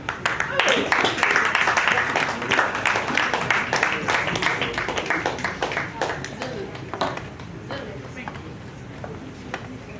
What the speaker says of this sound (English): recipient of this award, and I'll ask you to give them the biggest cheer and hand clap, is Mr. Joseph Atukunda.